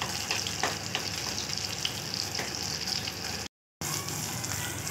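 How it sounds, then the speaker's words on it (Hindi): Bun kabab patties frying in hot oil, a steady loud crackling sizzle that fills the whole stretch, broken by one brief cut of silence near the end. "फ्राई कर करके इनको इस तरह निकालते जा रहे हैं"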